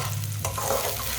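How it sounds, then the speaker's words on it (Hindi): Chopped onions being stirred and lightly browned in a pan for dahi macaroni: a close, steady frying hiss with a brief scrape of stirring midway, short and unbroken by voices. "प्याज को हल्का सा ब्राउन कर लेंगे। 2 मिनट के लिए पका लेंगे प्याज को।"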